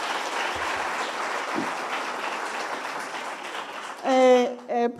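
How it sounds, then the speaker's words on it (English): Conference colleagues at an academic colloquium give a sustained round of applause, a broad, even patter of many hands that holds steady, then gives way to a voice speaking over it near the end. "Another very big head of applause."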